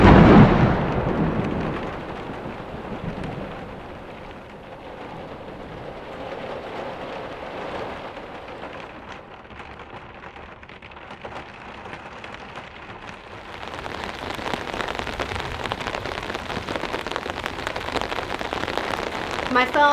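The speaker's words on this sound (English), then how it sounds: "those might be some strong storms headed our way" Heavy rain pours steadily on an off-grid cabin during a strong thunderstorm, a dense, close hiss that eases through the middle and swells louder again toward the end. No one speaks.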